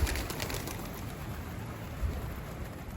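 A pigeon coming back to its loft gives faint, low coos against a steady outdoor background hiss. No one speaks.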